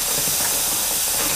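Freshly boiled milk pours through a chinois strainer for a flan pâtissier, making a loud, steady rushing hiss of liquid streaming close by for the whole short stretch, with no voices.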